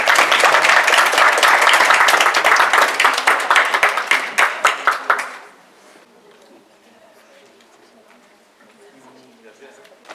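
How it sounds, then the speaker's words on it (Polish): Dense crowd applause at a show jumping competition in the riding club arena, loud and steady for about five seconds, then thinning into scattered claps and fading to quiet background. "Brawa!"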